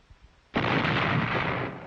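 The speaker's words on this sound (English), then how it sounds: "Casualties mounted as the enemy lashed back with artillery and mortars to prevent encirclement." Battlefield artillery and mortar fire: after a short, quiet lead-in, a massive blast erupts and rolls on as a sustained, loud, broadband roar that slowly fades, with no voices.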